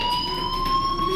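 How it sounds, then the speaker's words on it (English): A fire alarm rings inside the Life is Strange video game, a steady, loud electronic tone holding a constant pitch without break, with no voices over it. "do you hear that fire alarm?"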